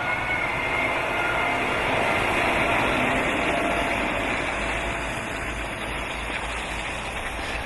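A Kenworth T409SAR truck hauling a loaded dog trailer through a tunnel under a highway, a loud, steady engine drone and road roar filling the space evenly, with no talking.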